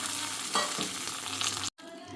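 Sizzling tempering poured into pepper rasam and stirred, a loud continuous fry-hiss with stirring scrapes, cut by a brief dropout near the end, no voices.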